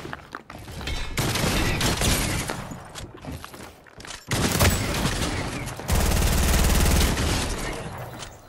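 Shotgun and rapid gunfire bursts in a 1v1 video game match, loud, close and repeated in dense volleys separated by short pauses.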